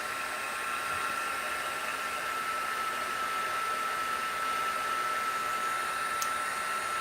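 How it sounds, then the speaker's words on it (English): A heat gun running at a craft table, giving a steady, loud, even blowing whoosh with no change for the whole stretch. "So let's go ahead and get the heat gun going here."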